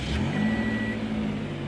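A 2016 Toyota RAV4 engine runs at a steady idle, a short low hum with a faint tonal whine on top, heard close and alone.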